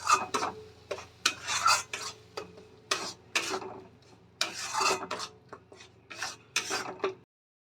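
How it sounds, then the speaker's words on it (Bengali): Spices and ground tomato are stirred and scraped in a pan while they sauté, giving a run of rhythmic rasping strokes at close range. The strokes are repeated and uneven, and no one speaks. "এবার সবকটা মশলা আমি ভালো করে কষিয়ে নেব।"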